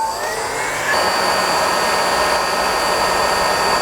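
A heat gun blows hot air onto a plastic M2 Competition-style front bumper being fitted to a crashed BMW M135i, making a steady, loud, close-up rushing hiss with a faint whine that holds for the whole stretch.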